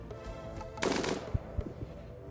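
A short burst of rapid automatic fire from a heavy SMG in RimWorld, followed by a few sharp single shots, loud and close, in a busy game soundscape.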